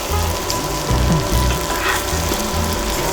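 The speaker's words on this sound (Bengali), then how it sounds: "মাটনটাকে ঢেলে জাস্ট একদম আঁচটা কম করে ভালো করে কষিয়ে নিচ্ছি।" Mutton frying with browned onion over low heat for a ghee roast, a loud, dense, continuous sizzle with crackling and soft stirring, close up and without voices.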